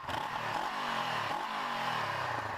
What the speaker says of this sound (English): Let's do a rev for you.